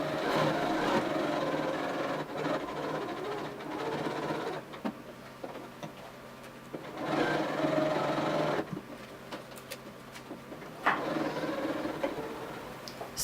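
A sewing machine edge stitches a patch onto fabric in steady running bursts, with short pauses between them and the motor's rhythm close and clear.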